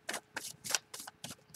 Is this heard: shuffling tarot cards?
yes